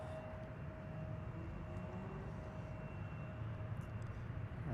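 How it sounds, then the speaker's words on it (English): A jet airliner on approach to Seattle-Tacoma airport gives a steady, broadband distant roar with a faint whine held through the whole stretch. No voices are heard. "we do have an aircraft on approach"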